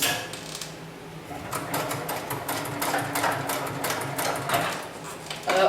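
A heavy-duty sewing machine built for extreme materials stitching textile webbing straps, a rapid mechanical clatter that speeds up and holds a steady run, close and fairly quiet, ending with a sharp clack.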